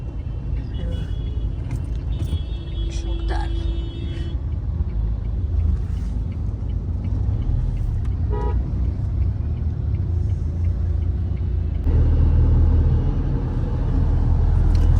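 Steady low engine rumble of a car moving through traffic, a continuous hum with occasional faint clicks and a louder surge near the end.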